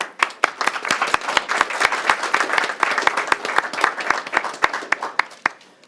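Audience applause at a school district board of education meeting, honoring a staff award recipient: a room of people clapping steadily, with a few sharp, close claps standing out in a regular beat over the dense patter.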